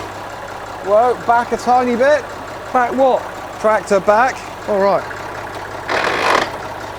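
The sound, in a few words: 1960s Massey Ferguson tractor engine idling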